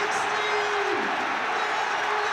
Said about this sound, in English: The loudest cheer of the night by a distance.